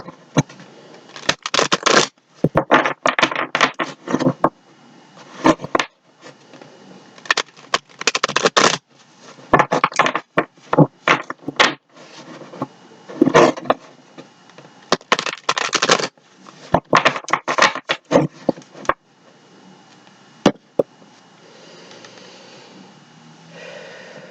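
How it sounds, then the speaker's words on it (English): A tarot deck is shuffled by hand in repeated bursts, crisp riffling and sliding card sounds close to the mic, separated by brief pauses and tapering off near the end. "I'm going to go ahead and give this one or two shuffles."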